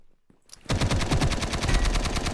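Rapid automatic gunfire from a weapon in a video game, a loud, fast, evenly spaced burst of shots that starts abruptly after a brief quiet moment and runs to the end.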